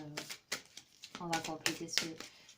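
Playing cards riffled and shuffled for a card reading, in quick papery bursts of rapid flutters, with a tonal, voice-like background running underneath.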